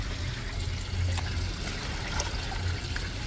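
Water pours steadily into a small gallon jug, a continuous close trickle and splash with low gurgling, alone with no voices.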